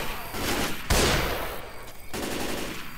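Sniper rifle shots in the zombie shooter game Left 4 Dead 2: a sharp loud blast near the middle stands out from a dense, continuous din of gunfire and combat noise.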